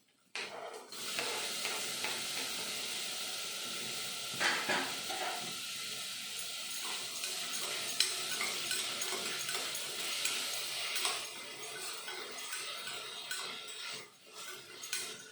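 Chopped tomato for tomato rice fries in a pan in a village kitchen, giving a steady, close sizzle and hiss with occasional scraping stirs and no talk over it.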